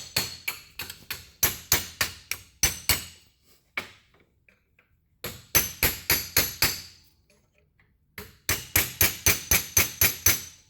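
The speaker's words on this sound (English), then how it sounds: "take me a chisel, take me a hammer, knock these tabs back" Sharp metallic hammer taps on a chisel knocking back metal locking tabs on a Teryx 800 steering rack, in quick bursts of several strikes separated by short pauses, close and loud with ringing impacts.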